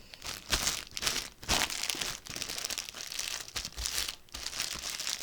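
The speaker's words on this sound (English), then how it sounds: "And sorry if I'm crinkling." A newly delivered fabric package crinkles loudly as it is put away, with bursts of crisp plastic rustling and crunching in several close, irregular surges.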